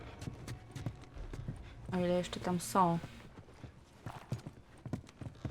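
Horse hooves clip-clop in a steady rhythm with a sharp whinny in the middle in the video game The Last of Us, while someone talks quietly over the sounds.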